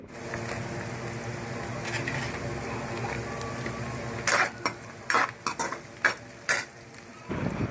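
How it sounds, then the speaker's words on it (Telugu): Chillies and onions fry in oil in a pan with bay leaves for a capsicum egg curry, giving a steady low sizzle. Sharp clinks and scrapes of stirring join in the second half. "ఆ తర్వాత మిరపకాయలు వేసుకొని శుభ్రంగా ఫ్రై చేసుకోవాలి"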